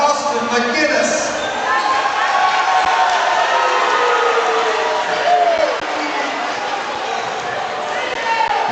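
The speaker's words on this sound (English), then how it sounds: "McGinnis greeted warmly by the Wolfe County crowd" Wolfe County crowd at a boys high school basketball tournament game cheers and claps warmly as a player comes off the bench, a steady, loud wash of gym noise with voices mixed in.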